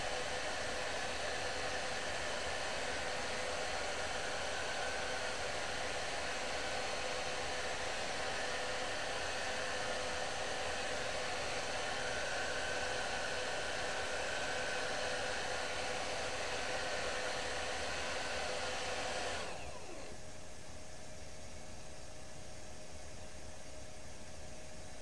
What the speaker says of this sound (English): take the hair dryer, the blower, to it again.